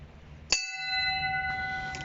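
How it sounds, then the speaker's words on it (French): A metal bell on a forest path of a golf course is struck once, ringing out clear and sustained with a slowly fading tone, faintly restruck near the end. "Vous sonnez la cloche, histoire que personne vous tape une balle à travers les bois"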